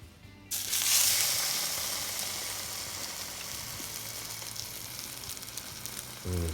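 French toast frying in a pan, a loud sudden sizzle bursting up as the bread is flipped, then a steady crackling hiss that slowly eases, with a soft knock near the end.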